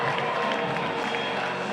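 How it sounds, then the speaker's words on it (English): A stadium crowd at North Harbour Stadium roars steadily after a home run at a Tuatara baseball game, the loud, dense cheering and applause continuing throughout, with a commentator talking over it. "The crowd loving it."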